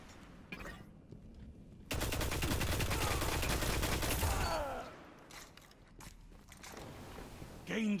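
Rapid bursts of Hakke Zarinaea-D auto-rifle fire in a Destiny PvP match: a dense, sustained stream of shots for about three seconds, then fading, with a short rattle near the end and quiet game ambience between.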